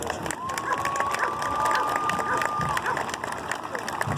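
Crowd applause and cheering for a police K9 dog team at a competition, a dense, sustained roar of clapping and shouts with a high whistle-like tone riding over it for a couple of seconds.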